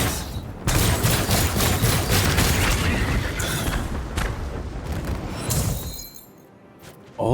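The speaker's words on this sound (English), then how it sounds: "the explosion is basically the same damage as the mines, except it's instantaneous" A loud, sustained burst of explosions and shattering debris from the video game Outcast: A New Beginning, roaring continuously for several seconds before dropping away, with no talking.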